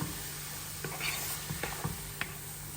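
Apple and cinnamon filling is stirred in a pan on the stove, a soft scraping and shuffling with a few brief clinks against the pan over a faint steady background hiss, close and fairly quiet.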